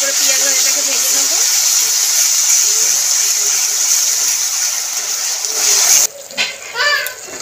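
Onion paste frying in a pan for Bengali doi katla: a loud, steady hissing sizzle runs close and continuous, then cuts off abruptly near the end, leaving softer sputtering and faint voice sounds.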